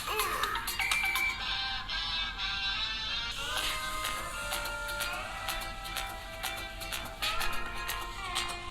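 A Xiaomi Redmi Note 12S smartphone plays a bright electronic melody through its loudspeaker at maximum volume, with clear tonal notes and percussive ticks sounding steadily for several seconds with no talk.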